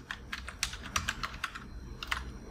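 Code being typed on a computer keyboard, a rapid uneven run of close, crisp key clicks with brief pauses, alone without speech.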